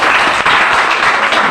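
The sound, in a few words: audience applause, clapping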